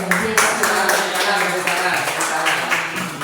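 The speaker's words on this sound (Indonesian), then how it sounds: "Tepuk tangan dulu dong." An audience applauds with a burst of scattered hand clapping that carries on through the whole moment, while a voice speaks faintly beneath it.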